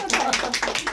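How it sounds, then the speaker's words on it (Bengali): A short burst of hand clapping from a small audience at a makeup competition, several quick claps close by with a voice faintly underneath. "হাততালি।"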